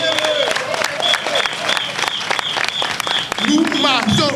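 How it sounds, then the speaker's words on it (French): Applause from a political rally crowd in Benin, steady and dense throughout, mixed with crowd noise and a whistle-like tone, with voices shouting over it near the end. "Il faut l'applaudir."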